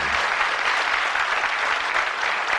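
A studio audience on a 1980s darts game show breaks into full, sustained applause, loud and even throughout.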